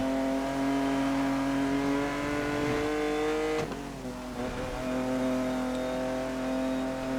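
A video game car engine drones steadily with a buzzing, tonal whine, holding a constant rev close up, dipping briefly midway before settling back; no talking.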